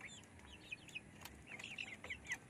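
Native Bisaya chickens clucking in a coop, a series of short, close clucks and chirps over a quiet background, with a brief rustle or wing flap.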